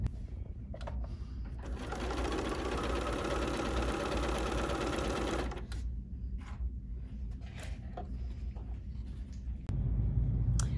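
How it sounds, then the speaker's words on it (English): A Bernina sewing machine with a non-stick foot stitches through vinyl in one steady, rapid mechanical run of about four seconds, followed by quieter handling noises. "Lowering our presser foot back down again, and then stitching."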